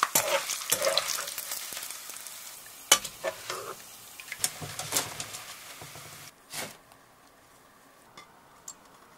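Shrimp and minced garlic fry in hot oil in a pan, crackling and sizzling with bursts of stirring and spatula scrapes, easing to a quieter hiss near the end.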